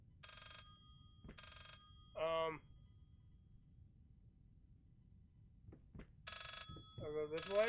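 A telephone rings in the horror video game Layers of Fear, with short repeated bursts at the start and again at the end, plus a voice talking in between.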